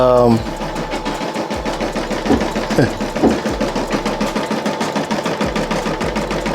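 A machine embroiderer stitches a design directly onto a T-shirt, its needle hammering in a fast, steady rhythmic chatter close to the microphone, with a few brief louder knocks.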